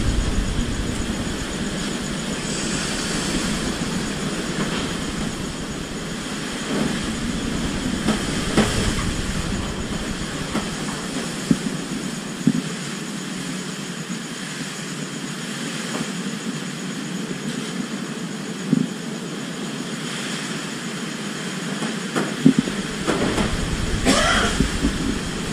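Strong typhoon winds roaring steadily through the night in the Philippines, a dense continuous rushing with occasional sharp knocks and gusts swelling, no talk.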